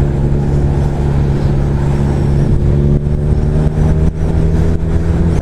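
A car engine revs hard in second gear against its rev limiter, a loud, close, sustained buzzing roar with brief dips where the limiter cuts in.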